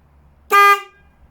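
A Denali Sound Bomb air horn fitted to a motorcycle gives one loud, bright blast lasting about a quarter second, then a short fading tail. The near street is otherwise quiet.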